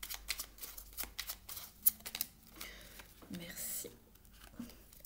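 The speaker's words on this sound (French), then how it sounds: "Je vais vous tirer une autre carte." Tarot cards shuffled and drawn during a French-language reading, giving soft, close, irregular riffling and sliding card sounds, with a few sharper snaps and flicks over a quiet background.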